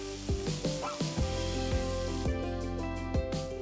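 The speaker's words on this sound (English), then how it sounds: "Saute the tomatoes till they get mushy." Chopped tomatoes sautéing in a pan after onions for dal fry, a steady close sizzle broken by regular scraping stirs, with no voices.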